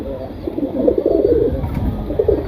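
Deep, rolling coos from a young pair of pigeons sound close and full, running continuously with a slight swell and fade.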